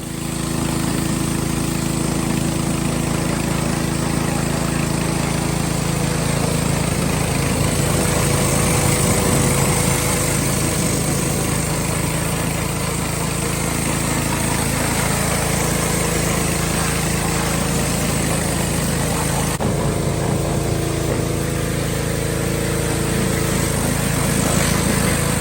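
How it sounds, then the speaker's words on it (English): An engine-driven pressure washer cleans the degreaser-soaked underside of a 1971 Chevrolet K20 farm truck, with a loud, continuous, close motor drone and a hissing spray running unbroken throughout. "Time to pressure wash."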